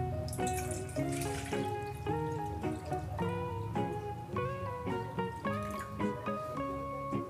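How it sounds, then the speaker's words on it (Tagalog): One liter of water pours into an empty stainless steel bowl, a splashing ringing stream whose pitch slowly climbs as the bowl fills, close and moderately loud. "Lalagyan natin ng 1 liter na tubig."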